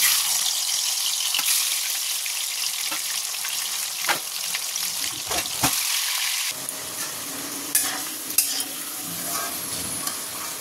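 Katla fish frying in oil make a steady crackling sizzle, broken by scattered clinks and scrapes of utensils, with the hiss shifting in tone partway through as the pan is worked.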